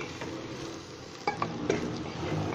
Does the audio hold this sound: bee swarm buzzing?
no